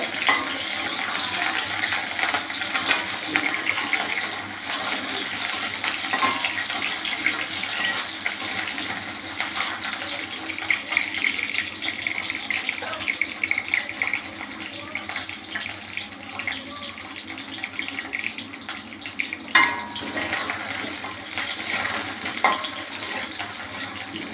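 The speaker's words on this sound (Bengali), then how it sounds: "পিসগুলা হালকাভাবে একটু ভেজে নেব" Pointed gourd pieces sizzle as they lightly fry in hot oil in a pan, a steady crackling hiss that continues throughout with small pops and stirring sounds.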